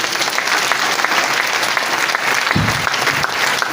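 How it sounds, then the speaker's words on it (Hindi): Audience clapping loudly for the organisation at a direct selling seminar, a thick continuous roar of many hands that holds steady, with a short low thump partway through. "मैं चाहूँगा कि ऐसी संस्था के लिए एक बार जोरदार ताली बजाएं"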